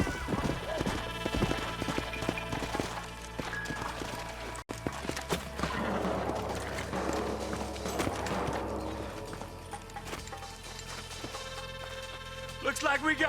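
Horse hooves clip-clop in Red Dead Redemption, with a steady rhythm of hoofbeats under a layer of game music and ambience.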